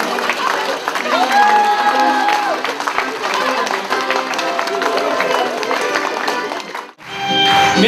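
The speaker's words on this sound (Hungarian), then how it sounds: "Nagy-nagy tapsot kérek a többiektől!" Wedding guests in a crowded reception hall break into sustained, loud applause and cheering, clapping mixing with shouts and music, which drops out abruptly near the end before the noise swells back.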